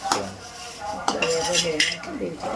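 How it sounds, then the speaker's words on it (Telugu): Cashews and raisins are stirred in ghee in a pan while making payasam, with close metallic scrapes and clinks of a spoon against the pan in an irregular rhythm and a faint sizzle underneath. "ఆ తర్వాత గోడంబి ద్రాక్ష అయితే అందులోకి వేసుకొని ఇలా చేసుకోవాలి."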